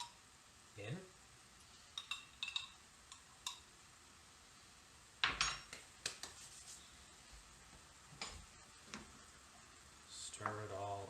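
Garlic is stirred in a pan with a utensil, giving sparse, quiet clinks and scrapes of metal on cookware in small scattered clusters with pauses between, and a louder clatter near the middle and at the end.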